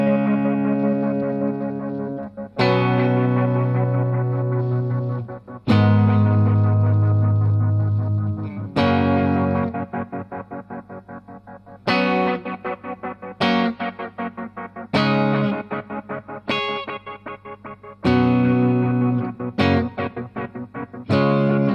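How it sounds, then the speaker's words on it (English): Electric guitar played through a Strymon Timeline delay pedal set to tremolo delay, with picked chords and notes ringing out and pulsing, wavering repeats trailing each phrase, loud and close with no talking. "this is now a tremolo delay"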